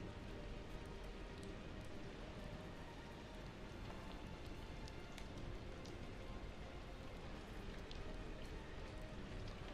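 Steady rain falls continuously in the video game Nier Replicant, a dense, even hiss of drops on surfaces with faint scattered taps and no talking over it.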